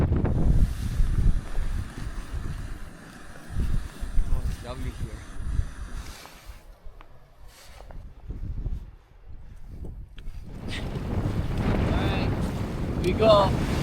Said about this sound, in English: Stiff southwesterly wind, and we're traveling southwest